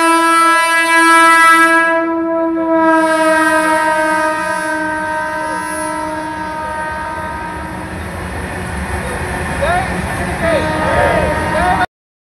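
The Sampark Kranti express sounds a long, loud horn blast as it pulls into Rajampet railway station. Wheels then rumble and clatter on the rails below, with voices in the background.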